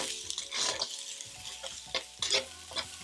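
Onions and carrots frying in hot oil for fried rice, a steady close sizzle broken by several sharp scraping stirs and clatters of a utensil against the pan; no one speaks.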